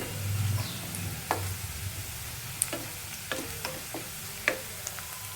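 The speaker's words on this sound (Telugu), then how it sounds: "ఉల్లిపాయ పచ్చిమిర్చి బాగా వేగాలి కాబట్టి కొంచెం టైం పడుతుంది" Onions and green chillies fry in oil for Andhra-style buttermilk stew, a soft, steady sizzle with a few sharp utensil taps and stirring clicks, heard close and fairly quiet.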